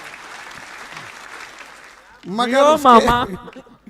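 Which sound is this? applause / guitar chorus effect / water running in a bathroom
applause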